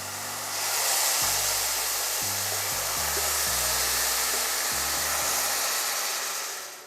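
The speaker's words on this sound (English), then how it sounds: "So now we're gonna go in with our wine slowly." Wine poured slowly into a hot pan of browning mushrooms, giving a loud, sustained sizzle and steamy hiss that holds steady for several seconds, with a low hum underneath.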